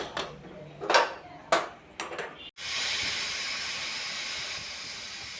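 Pressure cooker with dal and turmeric releases a strong continuous steam hiss that bursts in suddenly and holds steady, close by, after a few scattered clinks of kitchen utensils.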